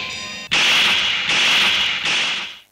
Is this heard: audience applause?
no